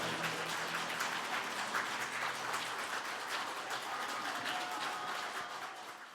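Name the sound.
audience applause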